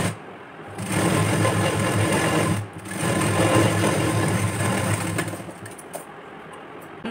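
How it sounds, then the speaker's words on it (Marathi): A sewing machine stitches a seam along an extra strip on a 32-inch chest blouse, running in two steady bursts of fast whirring with a brief pause between, close and fairly loud. "जी खालून आपण जी एक्स्ट्रा पट्टी घेतली होती त्यावरती आपण ही शिलाई मारलेली आहे"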